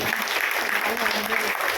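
An audience in a hall clapping for a women's self-employment programme coordinator, a dense, steady round of applause heard close and loud throughout.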